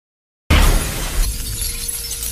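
Glass shatters in a movie fight scene, a sudden loud crash that bursts in after silence and trails off into tinkling, scattering fragments.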